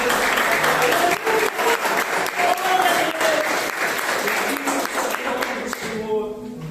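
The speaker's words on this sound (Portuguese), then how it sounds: "Desocupa as mãos e dá a tua melhor salva de palmas" Church congregation clapping in a Presbyterian service, a fairly loud, full round of applause that carries on steadily and starts to fade near the end, with voices faintly mixed in.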